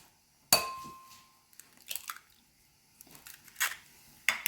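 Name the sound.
cracking eggs into a bowl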